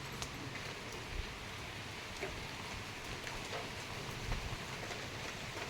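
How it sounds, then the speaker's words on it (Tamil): Light rain falls steadily, a faint, even hiss of drops with a few soft individual taps and no voices over it. "மழை வந்துகிட்டே இருக்குது."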